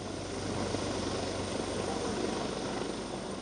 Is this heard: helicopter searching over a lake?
yes